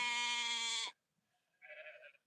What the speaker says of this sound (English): Can you hear my sheep? They're hungry.